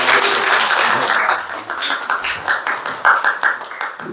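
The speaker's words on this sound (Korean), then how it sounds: "박수 한 번 더 부탁드립니다" Applause in a church congregation, loud close clapping that is dense at first and then breaks into scattered, uneven claps as it dies down.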